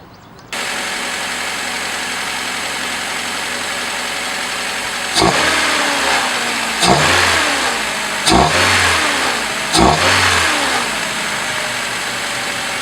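A 2000 Honda Civic Si engine with an AEM short ram intake idles steadily, then revs four times in quick bursts, each rising and falling with a throaty intake roar, loud and close.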